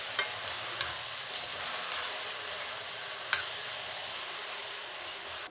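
Curry leaves fry in oil in a pan with a constant close sizzle and hiss, and a few sharp knocks and scrapes come from a spoon stirring them.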